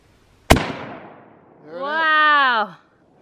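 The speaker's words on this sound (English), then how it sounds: "He's going to shoot the jug." A single sharp gunshot fired at a jug target 55 yards away cracks loud and close, its report decaying over a second, followed by a voice cheering.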